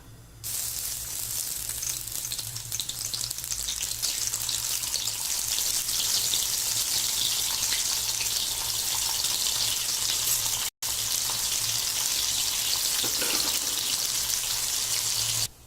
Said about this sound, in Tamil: பாருங்கள், கருவாடு நல்லா ஃப்ரை ஆயிடுச்சு.